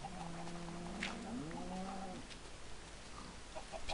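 Video-game farm animals in Minecraft, a pig and chickens, make a faint, drawn-out call with a sliding pitch over quiet background noise.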